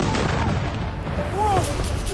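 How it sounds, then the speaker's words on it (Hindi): Missile striking residential buildings and exploding, a heavy rumbling blast wash with crackling debris, loud and continuous, while a voice talks over it and a faint siren-like wail rises briefly. "मिसाइल गिरती है, एक जोरदार चमक आती है और उसके बाद धमाके के साथ वहां तबाही मच जाती है।"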